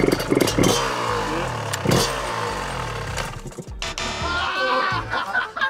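A motocross motorcycle engine revs hard up close, its pitch rising and falling in quick bursts with a rattly clatter, while a voice briefly cuts in.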